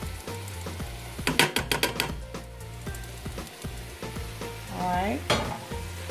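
Ground sausage hits a hot pan and sizzles, with a quick run of stirring clicks and scrapes over a steady frying hiss; a voice speaks briefly.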